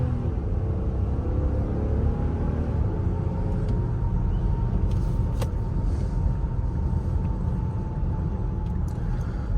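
Cabin sound from a 2024 Infiniti QX60 Luxe on the move: a steady, subdued low road and tire rumble fills the interior, with faint ticks and no one speaking.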